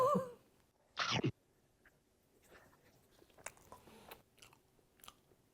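Someone bites into and chews a large chapssaltteok, a glutinous rice cake filled with red bean, with one sharp bite sound followed by soft, sticky, irregular chewing noises close to the mic, faint and without talk.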